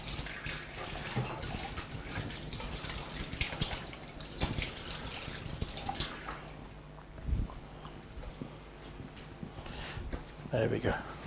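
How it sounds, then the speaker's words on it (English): Water from a tap runs continuously into a sink for several seconds during handwashing in a home kitchen, fairly soft, then tapers off with a few splashes and clatter. "Wash your hands."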